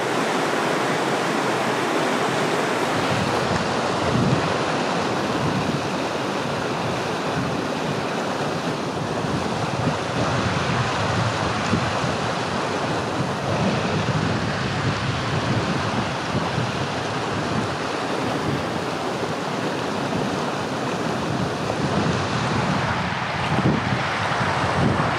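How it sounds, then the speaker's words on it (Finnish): Wind sweeps across a wilderness lake, a constant loud rushing wash of wind and rippling water with buffeting gusts against the microphone, with no voices. "Vaikka on kirkasta, niin on hyvä, että sen verran tuulee, että toi vedenpinta rikkoutuu."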